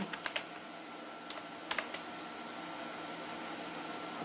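A computer keyboard is typed on while entering HTML link code: a few sharp clustered key clicks near the start and middle over a steady background hiss, then quiet.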